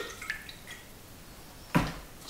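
Pottery glaze poured into the inside of a stoneware storage jar, a brief dripping patter followed by one louder splashing gush near the end, close and otherwise quiet.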